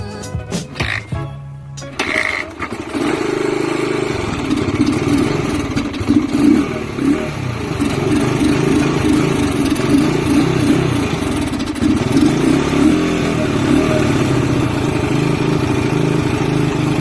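A dirt bike that sat unused for 15 years starts after a few seconds of cranking and clatter, then runs loud and close, idling roughly with repeated revs.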